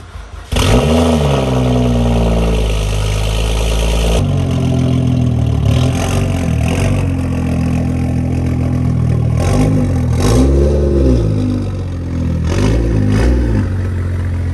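A straight-piped BMW 335i engine cranks and fires on a cold start into a loud, rough idle, with throaty blips of revving rising and falling, close and booming.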